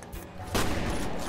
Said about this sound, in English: Unload shotgun.